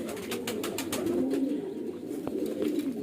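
Young Sheetla high-flyer pigeons coo continuously and softly while pecking grain, a low burbling murmur close by with faint pecking taps and no voices.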